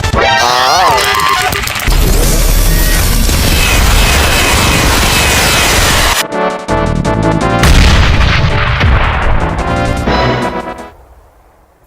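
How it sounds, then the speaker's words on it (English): Cannon fire and explosions in the video game Kirby Super Star, a loud, dense barrage of booms and crashes with mechanical clanks that cuts out abruptly, resumes, then fades near the end. "The main cannon has been destroyed!"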